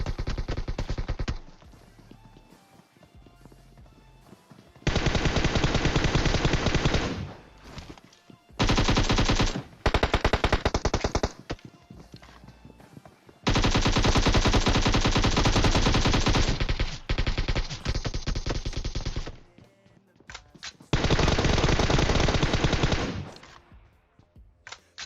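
Loud, sustained bursts of automatic gunfire in the mobile battle royale game PUBG Mobile, several long volleys separated by short pauses with no voices.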